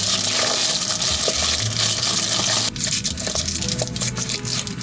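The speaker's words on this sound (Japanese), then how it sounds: "よし、隙間に水入れて、こんなもんでいいかな。" Water pours into the gap around a wrapped bundle of food in a pan, a steady gushing splash that runs loud and close, then drops and turns thinner partway through, with small clinks around it.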